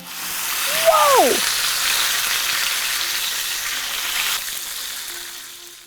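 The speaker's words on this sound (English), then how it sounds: "This is a thin piece of meat, so we're only gonna cook it for a couple of minutes on each side." A thin piece of meat sizzles steadily in a hot pan with ghee, a loud continuous frying hiss close up, with a brief squeaky utensil scrape near the start.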